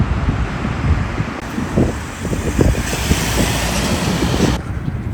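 A tram rumbles past nearby, its broad rolling clatter mixed with gusts of wind buffeting the microphone.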